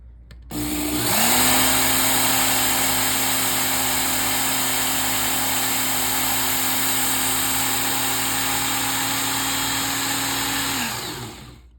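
A power tool's motor spins up with its blade held against sandpaper. It runs with a loud, even, high whine for about ten seconds, then winds down and stops.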